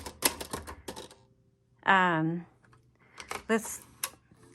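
Keys of a 1962 Olympia Splendid 33 manual typewriter clatter in quick irregular bursts, with crisp close strikes separated by pauses and a short tonal ding-like sound between runs; a voice is also briefly heard.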